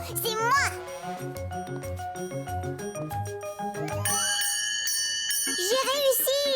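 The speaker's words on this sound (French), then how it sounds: "C'est moi qui vais faire sonner la cloche." A child rings a bell after climbing up to it in an animated children's show, and bright, sustained chiming tones sound over cheerful background music, with children's voices talking at the start and end.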